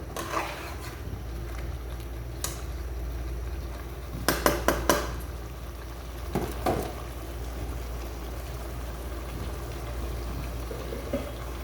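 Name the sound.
stirring spice mixture in a cooking pot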